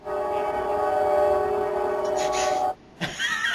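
A train passing as a sound effect, a steady loud rumble with sustained horn-like tones for over two seconds, cutting off abruptly into brief quiet before a faint voice-like sound resumes.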